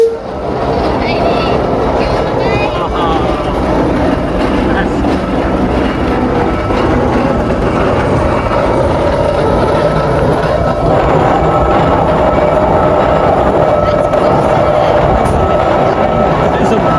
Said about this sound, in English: So we are going up steam train X36.